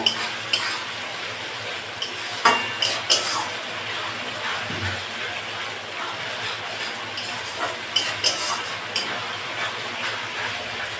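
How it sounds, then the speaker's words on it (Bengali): Ginger, garlic and onion stir-fried in a pan for a meat curry, a steady soft sizzle under intermittent scraping and clinking of a utensil against the pan, closely heard with no voices. "তো আদা রসুন পেঁয়াজটা খুব ভালো করে কষে নেব।"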